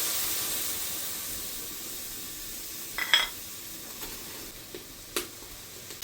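Spice paste sizzles and hisses steadily as it fries in a kadai, broken by a few brief clinks of stirring, with no talking.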